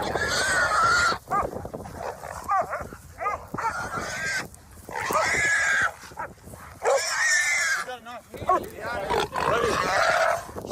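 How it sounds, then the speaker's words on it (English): A hunting dog barks in bursts while chasing a wild boar outdoors, the barks loud and repeated, mixed with squeals and animal noise, and a person talks over parts of it. "Listen to that dog barking."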